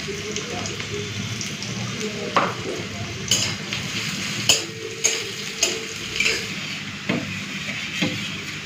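Panch phoron spices, green chilli and onion tempering sizzle steadily in hot oil for dal, a soft continuous frying hiss broken by light ticking pops at irregular intervals, close and fairly quiet.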